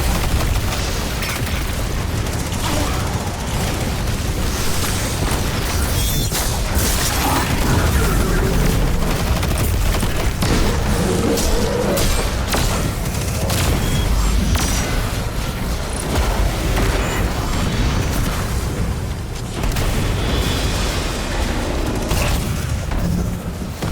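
Heavy, continuous explosions and booming gunfire from a Destiny 2 battle, with dense overlapping blasts and rumbling impacts that stay loud throughout.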